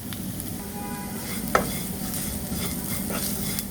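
Curry leaves and red chilli flakes hit hot oil with a steady close sizzle and stirring rustle, one sharp crackling pop midway, no talking.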